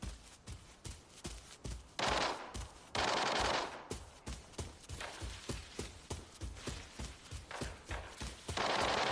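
Rapid gunfire rattles in the Arena Breakout video game, dense bursts of shots with heavier volleys mixed in, loud and continuous throughout.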